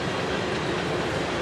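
A Canadian Pacific freight train rolls past at a railroad crossing near Columbus, Ohio, a loud, steady roar of wheels and cars close by without pause.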